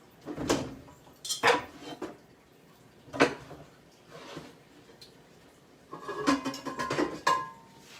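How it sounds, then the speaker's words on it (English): Pans are pulled out and handled in a kitchen before cooking breakfast, giving several separate metallic clanks and scrapes close by, with a busier cluster of rattling knocks near the end. "Get my pans out."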